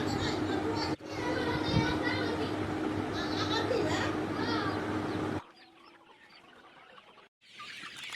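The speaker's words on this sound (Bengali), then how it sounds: "আজকে আমরা মুরগি খামারে এসেছি মুরগিকে খাদ্য দিতে।" Chickens clucking and calling at a farm, with people talking over much of it and a quieter stretch of birds near the end.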